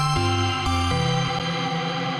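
Heavily reverberant, compressed synth tones from an Ableton effect rack shift pitch in a few steps, with a dense, washed-out tail smearing each note into the next.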